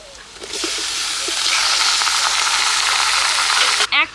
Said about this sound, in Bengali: পেঁয়াজটা লাল লাল করে ভেজে নিলাম এবার ধুয়ে রাখা মাংসটা দিয়ে দিচ্ছি